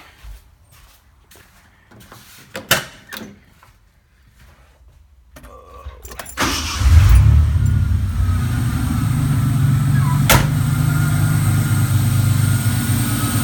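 A 1988 Ford Ranger with a leaking valve cover starts after a few clicks and knocks. The engine catches partway through and settles into a steady, loud idle that continues to the end.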